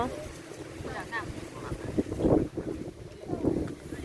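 Wind buffeting an outdoor microphone in gusty rumbles, with a voice calling out over it.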